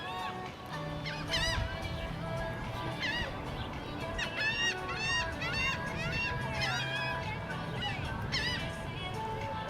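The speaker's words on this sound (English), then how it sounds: "And the seagulls are enjoying the boardwalk this morning as well." Seagulls call on a seaside boardwalk on a sunny morning, with repeated squawking and honking cries overlapping in bursts over steady background murmur, fairly close and loud.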